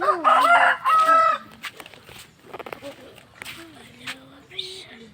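A rooster crows loudly near the start, followed by softer clucking and scattered rustling and footsteps, with another faint crow later; red fighting roosters.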